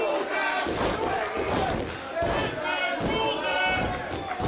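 A wrestling crowd at a match between two wrestlers chants and roars in a dense, continuous wall of voices, with rhythmic surges and occasional thuds beneath.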